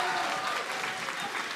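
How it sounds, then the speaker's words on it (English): Brief burst of crowd applause at a live panel event, a dense wash of clapping from a large audience, loud and continuous for the short stretch. "Can we have a round of applause for these guys first?"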